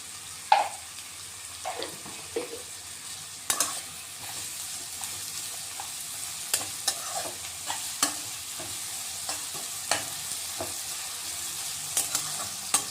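Chopped onions with salt, plus potato and tomato, sauté in hot oil tempering for poha, giving a steady close sizzle broken by repeated spatula scrapes and stirring clatters against the pan, with no talking.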